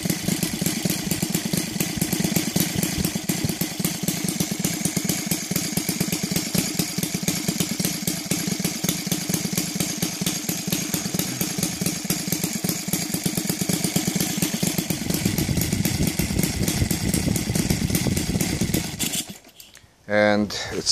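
A Laser 300 engine fitted with CH ignition and converted to run on gasoline idles steadily and loudly for about nineteen seconds, then the engine sound drops away abruptly near the end.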